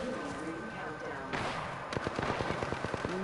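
Gunfire in the Apex Legends video game, a rapid burst of automatic shots in the second half following a sharp blast, set against steady game background noise with voices.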